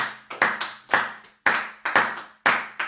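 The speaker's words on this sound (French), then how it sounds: "Acclamons notre Seigneur Jésus." A church congregation applauding in praise of the Lord Jesus: irregular bursts of hand claps in uneven groups, moderately close and fairly loud, with no voices over them.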